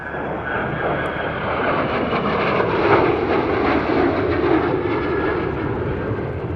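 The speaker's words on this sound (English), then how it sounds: "First to fly past, the E-7A Wedgetail." A Boeing E-7A Wedgetail airborne early warning aircraft flies past at the Australian International Airshow, its engines producing a loud, steady broadband roar that swells slightly mid-pass and holds throughout.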